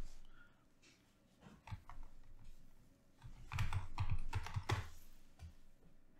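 Soft typing on a computer keyboard while entering an activation code during a Windows 11 software installation, with irregular close clicks that grow denser and louder toward the end in a quiet room.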